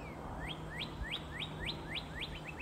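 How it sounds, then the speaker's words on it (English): A cardinal repeats a series of clear, rising whistled notes at a steady rhythm, about ten in a row, over a soft outdoor background hum. "Sounds like a cardinal."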